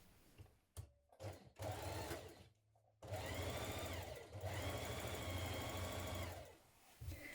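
Domestic sewing machine stitching a 1.5 cm back seam on a jacket, running in short bursts at first and then a long steady run of close, loud motor whir and needle chatter, with brief pauses and no talk.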